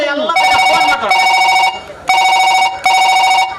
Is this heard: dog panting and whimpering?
no